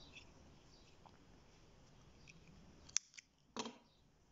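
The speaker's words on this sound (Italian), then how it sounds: "ora arrivata a questo punto, taglio il filo" Scissors snip through yarn while crocheting a granny square tile, giving two or three short, close clicks near the end after a stretch of quiet room noise.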